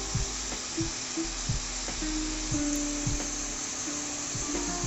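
Onions sautéing in oil for egg masala sizzle steadily, with a few soft clicks and taps from stirring over a constant low hum.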